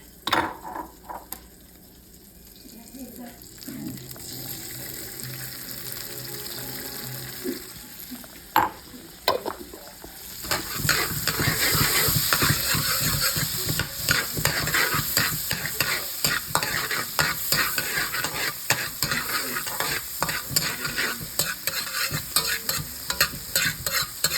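Garlic browning in butter in a pan for a mussels dish sizzles steadily while a utensil stirs and scrapes, starting quieter and growing into dense, loud frying after about ten seconds, with no talking.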